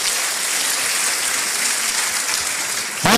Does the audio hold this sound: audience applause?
yes